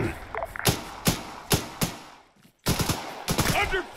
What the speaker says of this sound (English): They've got a heavy machine gun.